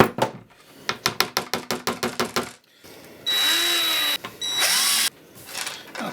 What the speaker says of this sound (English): I'm going to take the scribe to make my pilot holes